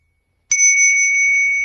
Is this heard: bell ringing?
yes